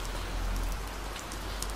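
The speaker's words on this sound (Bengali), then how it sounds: "একে তো বৃষ্টি হচ্ছে" Steady, dense rainfall pattering on a surface, close and fairly loud, with a low rumbling undertone throughout.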